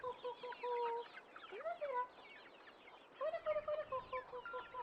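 Chickens clucking and squawking up close, a flurry of overlapping calls in short bursts with brief pauses between.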